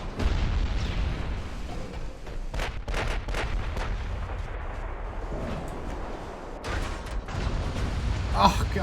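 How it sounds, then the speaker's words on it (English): A battleship ammunition explosion in the naval warfare game Ultimate Admiral: Dreadnought, with deep booming blasts and gunfire over a continuous low rumble while someone talks throughout. "That was another ammunition explosion."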